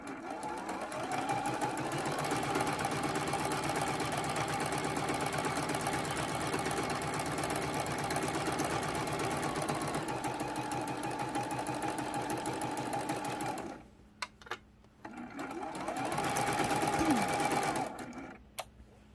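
A sewing machine stitches a seam through quilt fabric for a half square triangle, a steady rapid mechanical whirr that runs for a long stretch, stops briefly, then starts again with short bursts.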